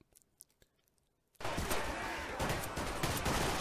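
In a Garry's Mod cops-versus-robbers NPC fight, a few faint scattered clicks and pops give way to a sudden, sustained barrage of dense, loud gunfire that continues to the end.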